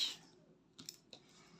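Scissors snipping thread during sewing, two faint short clicks in quiet surroundings.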